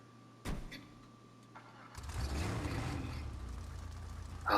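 Vamos car in GTA Online cranks and fires up with a sharp start, then settles into a steady, rumbling engine note close by, with no talking.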